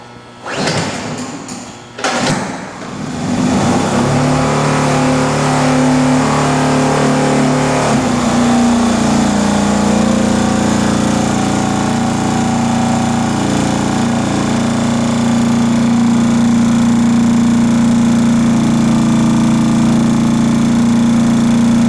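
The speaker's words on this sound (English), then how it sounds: "I guess we'll start the generator. It'll get loud" A Honda generator running on acetylene fuel starts up with a couple of brief bursts, then settles into a loud, steady, close engine drone that holds to the end with no talk.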